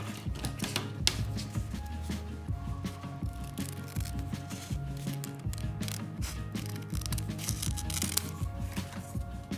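Scissors snip through paper while a chrysanthemum flower shape is cut along its marking, giving a steady run of close, crisp clicks and rustles with no talk.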